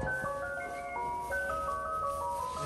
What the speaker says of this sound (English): Ice cream truck, but a Tesla.